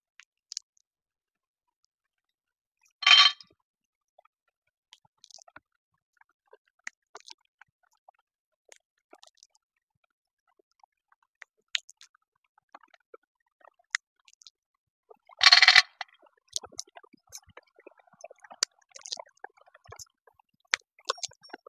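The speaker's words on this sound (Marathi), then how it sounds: "हे झालं आपलं शेंगदाणा फोडून" Raw peanuts cracked and crushed by hand for a garlicky methi gargatta, heard as two sharp, loud cracks several seconds apart amid sparse, faint clicks and small crunches in a quiet room.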